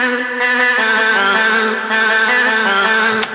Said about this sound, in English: I literally just sampled my own voice, put some reverb on it first